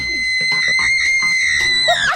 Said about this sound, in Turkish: Deli gibi bağırmayı kes.